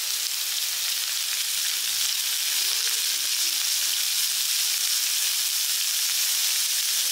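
Carrots and mixed vegetables sauté in a pan with a loud, continuous frying sizzle that stays even and close throughout, no talking over it.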